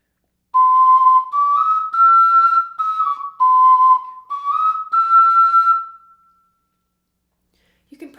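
A tenor ocarina plays a slow sequence of pure, breathy sustained notes stepping up and down, close and clear, followed by a moment of silence.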